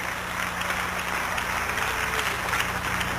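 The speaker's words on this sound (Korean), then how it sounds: "박수치며 하나님께 영광을 돌리시오" A church congregation applauds together during a New Year blessing revival service, steady dense clapping spread across a large room with a low hum underneath, sustained for a few seconds.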